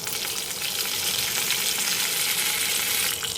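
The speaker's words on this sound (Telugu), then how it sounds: "కరివేపాకు చిటపట అన్నాక ఉల్లిపాయ ముక్కలు వేసుకున్నాను" Curry leaves crackle and sizzle loudly in hot oil during tempering for a green chilli and tomato curry, a dense, continuous frying hiss with stirring, close and steady with no talk.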